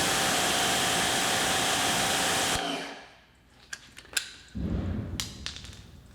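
A Wholesun 3000 psi electric pressure washer spraying through a 15-degree nozzle makes a loud, steady rushing hiss for a few seconds, then cuts off abruptly, leaving a few sharp clicks and handling noises.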